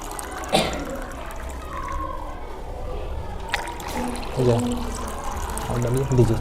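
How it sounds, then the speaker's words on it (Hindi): Dirty water is poured into a homemade plastic-bottle water filter built from waste materials, a splashing pour with trickles and drips, close by, while people talk over it in the background. "देखिए जैसे ही हम इसमें गंदे पानी को डालते हैं"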